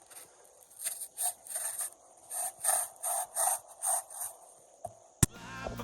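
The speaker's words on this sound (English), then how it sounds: "I have found the best thing for this is a hacksaw." Hacksaw cutting through metal while restoring a gray Canadian socket set: about eight rhythmic back-and-forth rasping strokes, close and fairly loud, followed by a sharp clank and a brief burst of music.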